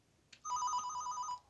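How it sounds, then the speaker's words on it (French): Telephone bell ringing inside a Fortnite horror-themed game map, a single steady electronic ring lasting about a second, clear and fairly loud with no talk over it. "c'est juste le téléphone qui sonne"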